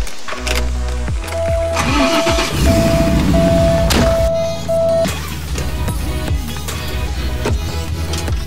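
A custom Porsche 944 fitted with an LS1 V8 cranks and fires up, the loud, close engine catching and settling into a deep, rumbling idle with a steady low throb.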